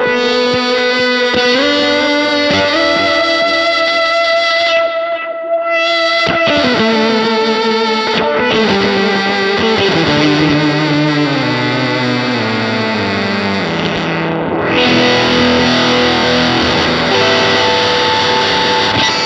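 Electric guitar played through a Keeley Synth 1 pedal with the blend set high plus reverb and delay, giving a loud, continuous stream of dense, spacey synth-like tones that glide and shift with only brief dips.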